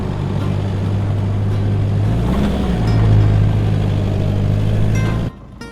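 A car engine straight from the factory holds a steady loud drone at speed on a track, swelling briefly in a rev midway before cutting off near the end.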